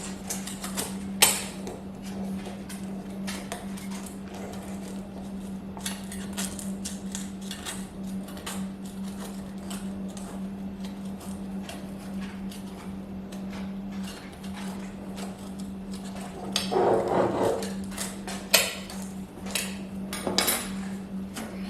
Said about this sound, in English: right now I'm just running a little spatula around the edge to loosen it up